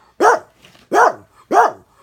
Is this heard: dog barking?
yes